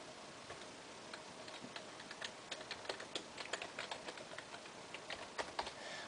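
Rapid, steady clicking of computer keyboard keys typing out a name for a new Minecraft survival world, close and fairly quiet, with no one talking.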